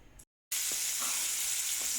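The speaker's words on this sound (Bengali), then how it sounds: "মাছগুলো কেটে পরিষ্কার করে এই যে ভাজা ভেজে নিতেছি" Cleaned fish frying in hot oil, a steady close sizzle that starts after a brief cut to silence, with a few faint knocks underneath and no talking.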